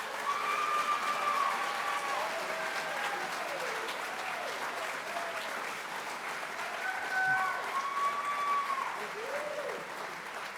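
Audience applause at a nurse pinning ceremony, steady and sustained for about ten seconds, heard at a distance and fairly faint, with scattered whoops and voices calling out over the clapping.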